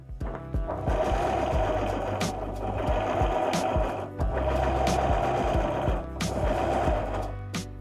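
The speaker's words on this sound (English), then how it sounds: "Let's quickly sew the sides." A sewing machine stitches the side seams of a thrifted mini skirt in steady fast bursts, with brief pauses between runs as the fabric is repositioned, close and clear with no talking.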